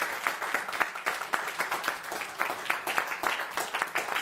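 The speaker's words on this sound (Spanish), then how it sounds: "Démosle un aplauso al Señor." A church congregation claps steadily together during a Spanish-language service, a sustained round of many hands at moderate distance with no speech over it.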